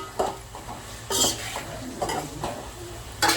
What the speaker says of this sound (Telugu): వీటినైతే బాగా ఫ్రై చేసుకోవాలండి వెజిటేబుల్స్ అన్నీ బాగా ఫ్రై కావాలి